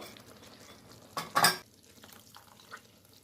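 A spoon briefly scrapes and clatters against a pan while seekh kabab gravy with yogurt is stirred, one short burst of contact over a quiet background with faint sizzling.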